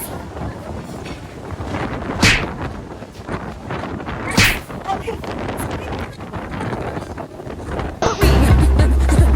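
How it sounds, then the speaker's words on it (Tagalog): Strong wind on a Boracay beach at night buffets the microphone in a steady roar, with surging gusts and faint surf beneath. "Kaya na naman yung mahangin"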